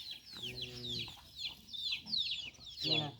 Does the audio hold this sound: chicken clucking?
yes